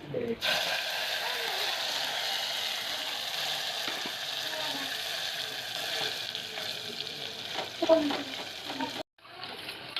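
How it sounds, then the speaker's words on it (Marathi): Cumin and mustard seeds frying in hot oil for urad dal give a continuous dense sizzle and crackle that runs steadily, then stops abruptly near the end. "आपण तेल टाकले आहे जिरा मोहरी टाकूया"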